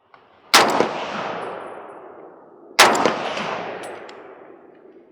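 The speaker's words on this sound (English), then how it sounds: "now, my favorite, M1 Garand. And it makes the really pretty sound too." Two loud M1 Garand rifle shots fired on an outdoor range, a couple of seconds apart, each a sharp crack followed by a long rolling echo that fades.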